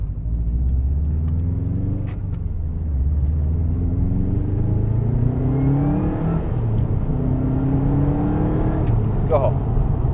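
Loud turbocharged engine of a low-mileage Subaru Impreza WRX STI Type-RA Spec-C, heard from inside as it pulls hard from low revs through several rising gear sweeps, with someone talking over it.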